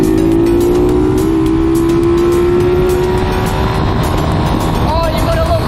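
A pit bike's engine drones loudly and steadily through a fast overtaking run, its pitch climbing slowly, with wind rush and engine noise filling the whole clip and no pauses.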